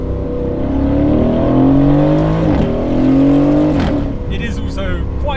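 An Aston Martin Vantage, a lowered former track safety car, drives a mountain pass road, its engine and exhaust loud and close as it revs up and shifts through rising gears.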